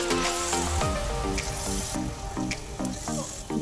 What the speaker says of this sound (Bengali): তেলটা গরম হয়ে গেছে। এখানে একটা করে দিয়ে ছেড়ে দেবো।